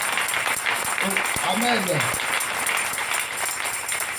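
Church congregation applauding and acclaiming during a revival service, with a steady wash of clapping and cheering mixed with voices, one voice rising briefly above the crowd.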